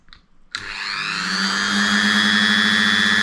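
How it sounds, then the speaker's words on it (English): A high-pitched Dremel rotary tool whirs up to speed and grinds the inside of a mountain bike seat post steadily, its whine rising and holding at a constant pitch. "This is the noise of a Dremel"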